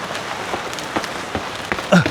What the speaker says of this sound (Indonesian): Tiba-tiba langsung hujan terus.